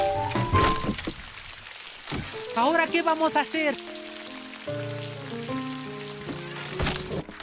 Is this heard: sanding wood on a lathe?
no